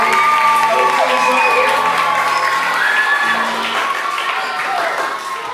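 A school audience of students applauds and cheers after a university arts performance on the evolution of African American music, with loud sustained clapping, whoops and excited shouts, close and lively, tapering slightly toward the end.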